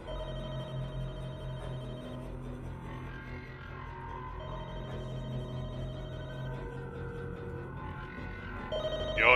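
A telephone rings in the Walking Dead: Michonne video game, Episode 2, Give No Shelter. The ringing tone is steady and moderately loud over ambient game noise, and it rises sharply at the very end.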